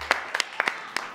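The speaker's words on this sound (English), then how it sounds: "This is the most clapping I've gotten in like a long time." A few scattered hand claps from a small audience at an acoustic band performance, sparse and moderately close, forming brief, thin applause.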